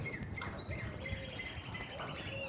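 A sparrow chirps near its nest at a roadside shrine on the Bhavnagar–Somnath highway, giving several short high tweets and thin whistled notes over a low rumbling outdoor background.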